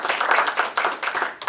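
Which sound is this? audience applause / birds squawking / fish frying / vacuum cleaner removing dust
audience applause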